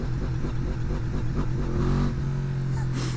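A Yamaha MT-10 motorcycle pulls hard in first gear, its engine note steadily rising with a rough, throaty growl that stays loud and close throughout.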